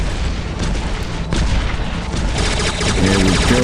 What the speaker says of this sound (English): There we go, got a nice explosion in there.